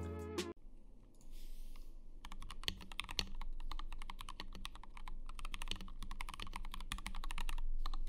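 Fast, dense clicking from a mechanical keyboard with lubed switches, close and clear, begins after a short tone and runs in steady rapid bursts until the end.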